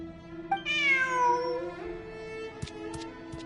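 A cat lets out one drawn-out, falling meow, followed by a few soft clicks and shuffles.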